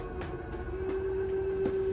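Slide-out motor on a 2022 Salem 26DBUD camper straining at full extension: a steady low mechanical drone with a sustained whining tone and faint rhythmic ticks, constant and fairly close.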